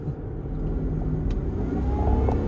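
A 2006 Range Rover Supercharged accelerating, its engine droning loud and close with a rising whine riding on top, steady throughout the short burst with no talking.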